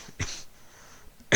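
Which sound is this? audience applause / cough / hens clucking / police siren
cough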